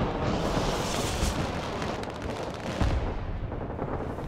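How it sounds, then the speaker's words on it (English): A Tomahawk cruise missile firing in the Broken Arrow war game, heard as a dense, sustained roaring blast with rumbling booms and a sharper thump midway, loud and continuous without speech. "I'm firing a Tomahawk back."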